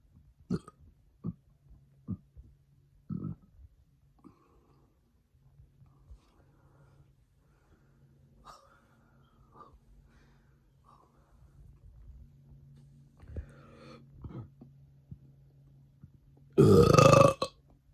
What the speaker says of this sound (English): I told you burping is a skill.